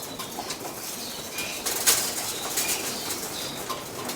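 Racing pigeons flap their wings as they enter a loft, a soft continuous fluttering with a few louder bursts of wingbeats close by and no voices.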